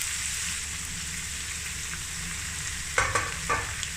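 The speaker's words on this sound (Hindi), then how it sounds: "प्याज को मिक्स करेंगे और हल्का सा फ्राई करेंगे।" Chopped medium onions and cumin fry in a pan for a masala egg omelette, giving a steady, close sizzle throughout, with a couple of brief stirring scrapes near the end.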